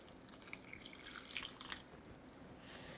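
Water pours into a quinoa bread mixture in a bowl, a faint, soft trickle and splash of liquid for a few seconds.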